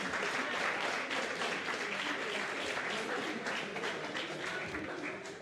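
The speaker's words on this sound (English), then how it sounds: "make a big hand of applause for these two fighters who went the full 6 rounds" Crowd applause and cheering fill a boxing venue after a six-round bout against a Mexican fighter, a dense, sustained wash of clapping that holds steady for several seconds, then begins to ease slightly.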